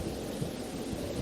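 Stormy night of thunder and heavy rain behind a spoken story, a steady low rumble with a broad rain hiss running throughout, fairly quiet and continuous.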